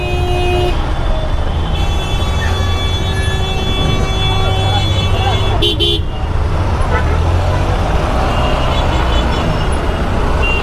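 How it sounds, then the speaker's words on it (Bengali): Traffic jam in Siliguri in the rain, with car and bus horns honking repeatedly over a steady roadway rumble and engine drone, some tones long and close, others shorter and farther off. "Traffic jam."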